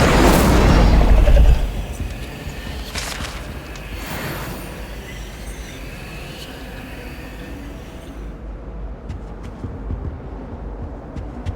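Incendio fire spell cast in Hogwarts Legacy: a loud, deep booming burst of flame at the start that fades into a lingering rumble and crackle, then quieter ambient noise.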